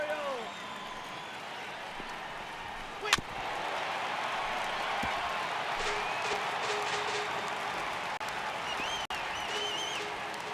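A stadium crowd in the MLB The Show 18 baseball game roars with a constant wash of cheering and applause, one sharp hit standing out, under a commentator talking.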